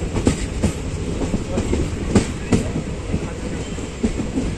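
Ratnachal SF Express pulling into Nuzvid station, a steady rumble of rolling wagons with rhythmic clickety-clack wheel thumps, heard from aboard and fairly loud throughout.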